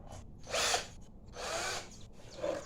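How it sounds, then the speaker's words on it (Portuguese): A power drill drives screws into a Stihl-style 43cc–52cc brush cutter during a repair, three separate whirring bursts with short pauses between them, close and loud. "Aí agora a gente vai pôr os parafusos."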